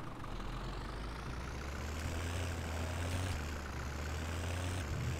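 Tractor engine compacting silage in the Farm Sim 17 video game, a low, steady diesel rumble at moderate level with slight pitch changes as it works, heard alone without talking.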